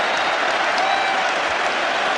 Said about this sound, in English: Claude Gord comes back to milk the applause.